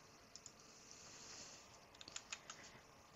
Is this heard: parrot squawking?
no